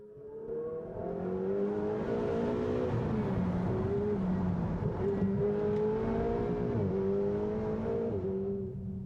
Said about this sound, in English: You sense something and hear the turbos, that special feeling.